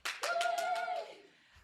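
Live audience at a comic arts festival panel clapping for Persephone: a handful of sharp claps followed by a sustained cheering tone that fades out, fairly close and brief.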